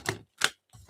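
Tarot cards being shuffled make three short, crisp riffling bursts separated by brief silences, close and fairly loud with no talking.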